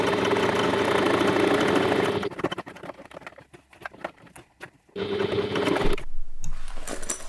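A sewing machine top stitches a backpack lining in two long, close, steady whirring runs, separated by a pause filled with soft clicks and fabric handling.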